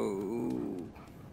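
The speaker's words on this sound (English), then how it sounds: "Move the dog out of the way." A dog in the video game Life is Strange 2 gives a low, drawn-out growl that wavers in pitch before fading into a softer whine-like tail; it is close and clear, with no talking.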